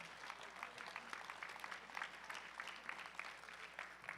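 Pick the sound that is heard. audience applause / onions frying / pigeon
audience applause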